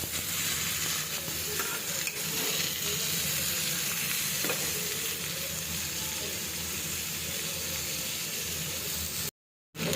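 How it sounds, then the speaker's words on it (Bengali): Brinjal, pointed gourd, pumpkin, carrot and papaya fry in oil until light brown. The sizzle is loud and steady with stirring mixed in, and it cuts out briefly near the end. "সবজিগুলোকে আমি এখন হালকা বাদামি তেলে ভেজে নেবো তেলে।"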